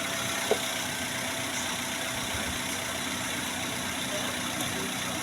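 Car engine idling steadily through a workshop service check, a low continuous rumble with one brief click near the start and no talk.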